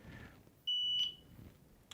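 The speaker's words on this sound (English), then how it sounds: "So you can miss those single beeps" One short, high-pitched electronic beep from a carp fishing bite alarm rings out clearly in a quiet setting, followed by a faint click.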